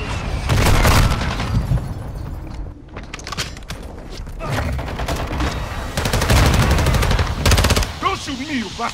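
Dense in-game combat from Modern Warfare 2: rapid machine-gun bursts and single shots mixed with heavy explosive booms, loud and continuous through most of the stretch, with a brief lull near the middle before the firing picks up again.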